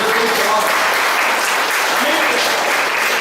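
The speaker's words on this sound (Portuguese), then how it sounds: "Dê uma salva de palmas para Jesus." A church congregation applauds in a dense, loud, sustained burst of clapping that fills the room, with voices mixed in.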